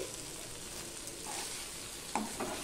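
Okra curry, mixed with ground rice paste, simmers in a pan under a soft steady sizzle, with a few quiet scrapes of stirring near the end.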